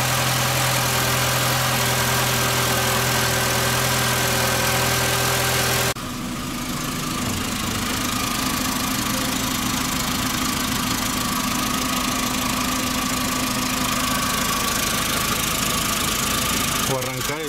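A VW car engine with an unfound fault idles loudly and close by in a steady, rough drone with a faint knocking pulse. Its tone shifts partway through and then continues running evenly.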